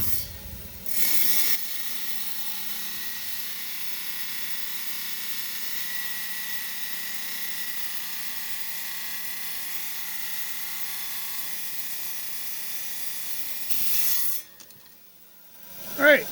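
Trim saw slicing through a piece of stromatolite rock, roughing out a cabochon shape: a steady, continuous grinding whine holds for about twelve seconds, then stops and trails into quiet handling.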